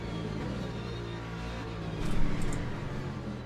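A race car engine drones at Imola in a racing video game, a steady low tone that swells briefly into a louder rev midway before settling again.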